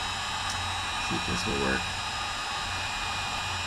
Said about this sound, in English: the old tried and true corded heat gun got me through a lot